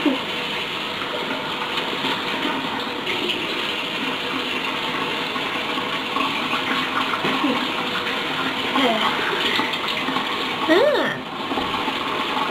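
Water runs steadily from a tap to rinse teeth after home whitening. It is a continuous close rushing flow that lasts the whole time, with a little faint handling noise.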